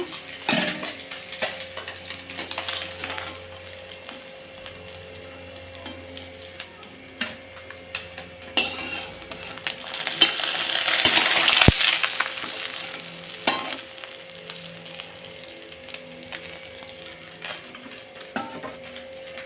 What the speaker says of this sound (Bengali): কড়াইটা সুন্দর করে গরম করে নিয়েছি বলে একটাও আর মাছের সাথে মাছ লাগেনি সুন্দর করে ভাজা হচ্ছে তো মাছগুলো